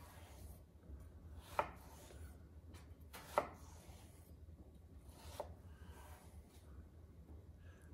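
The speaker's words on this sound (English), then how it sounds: "Make cuts down the length of the cucumber." A knife slices lengthwise down a cucumber on a cutting board, producing three brief, crisp chopping strokes spaced a couple of seconds apart, close but faint against a low background hum.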